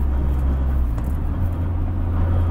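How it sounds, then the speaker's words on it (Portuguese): Steady low rumble of a car driving along a road in Japan, with constant road and engine noise close by and no talking. "esse carro pula que nem cavalo"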